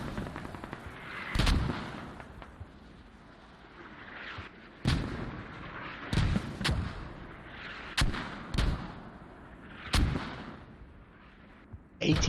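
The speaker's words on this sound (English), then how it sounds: "Some last ditch attempts with mortars" Mortar fire in an online multiplayer battle game on the Fools Road map, with a series of loud, sharp booming blasts spaced a second or two apart over a steady low background rumble.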